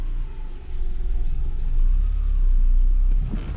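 A car braking hard on the road after a brake pad change, a steady loud low rumble of tyres and engine that swells and then fades out as the vehicle slows, with no talking.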